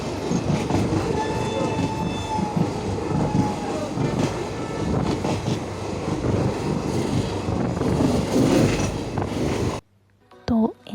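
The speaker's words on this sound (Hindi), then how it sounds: "हमारी ट्रेन एनजेबी पहुंच गई थी सुबह के 4:30 बजे करीब" A passenger train pulls into New Jalpaiguri station in the early morning, a loud, dense rumble of wheels and carriages with clattering and squealing that stops suddenly near the end, leaving a brief quieter moment.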